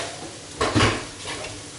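Potatoes frying in a pan are stirred in one short burst of scraping and rustling over a soft, steady sizzle, with a brief clink of the utensil against the pan.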